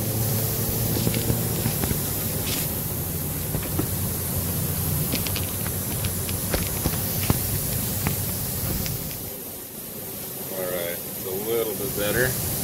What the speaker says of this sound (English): You can kind of see it as I spray it with bubbles.